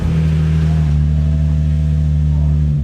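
A Baja truck engine fitted with 10-inch mufflers idles loud and close, a deep, steady, throbbing drone with a slight dip in pitch near the end.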